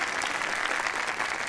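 A crowd of patrons applauds inside a grand cabaret club in the video game Yakuza 0, a dense, even round of clapping that holds steady throughout with no talk over it.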